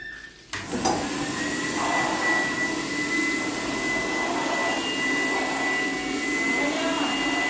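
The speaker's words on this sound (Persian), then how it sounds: "تا من یه جارو برقی بکشم" A household vacuum cleaner starts after a clunk and then runs steadily indoors, a loud, constant whining drone with a high tonal whistle, occasionally shifting slightly as it moves.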